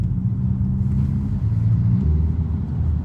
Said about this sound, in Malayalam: നോർമൽ സ്പോർട്ട് മോഡിൽ നമുക്ക് ഈ ഒരു സൗണ്ട് കിട്ടും.